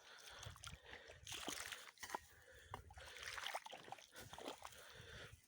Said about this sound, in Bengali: এই যে জল যাচ্ছে